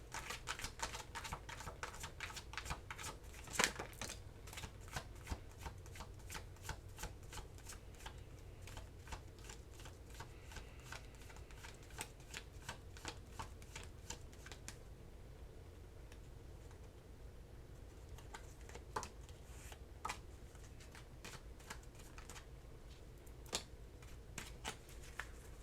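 Tarot cards shuffled by hand for a Taurus reading: a long, steady run of crisp riffling snaps and soft card slaps, close and continuous, with no talk.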